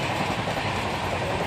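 The Falaknuma Express from Howrah to Balasore rumbles along at speed, a steady close wheel-on-rail roar heard briefly from on board.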